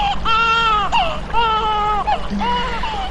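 A baby cries in repeated wailing bursts, loud and close, with short breaks between cries.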